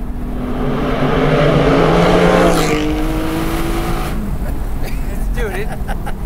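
A Porsche Spyder with a 4.5-litre engine revs hard while accelerating on a canyon road, a loud rising engine howl close by that climbs through the range and then drops off, with people talking over it.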